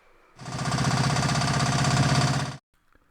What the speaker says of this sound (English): So I went back to using the auger bit that came with the hydraulic auger for the excavator.